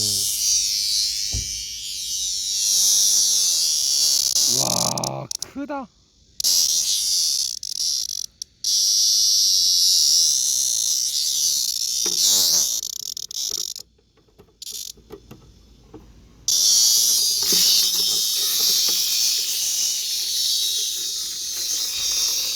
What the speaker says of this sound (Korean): 말매미 두 마리입니다